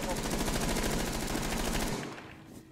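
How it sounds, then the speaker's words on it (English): A rapid, steady burst of automatic gunfire in a video game, fired through a wall, rattles loudly for about two seconds before cutting off and fading into quiet. "Yeah, I freaking shot through the wall"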